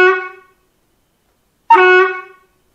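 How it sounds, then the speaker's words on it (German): Märklin 55326 gauge 1 (1:32) Wiebe construction-train model locomotive V 320 001 sounds its shunting whistle from the sound decoder: two short, clear tonal blasts separated by a pause of over a second, with no talk. "hat die Bauzuglok einen zusätzlichen Rangierpfiff"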